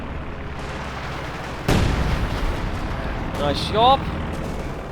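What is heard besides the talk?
artillery fire in a World War II strategy video game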